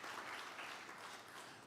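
Audience at the WE Summit 2022 applauding, a brief steady patter of clapping heard faint and distant.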